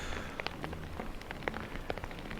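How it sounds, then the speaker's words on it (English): Steady rain falls and patters on surfaces at Taupo Motorsport Park during a drifting event, a dense continuous hiss with scattered louder drops close by and no voices. "So the rain definitely falling."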